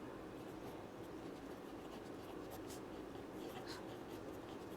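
A pen scratches across paper while linear equations are written down, a faint, steady rasping of strokes heard up close in a quiet room.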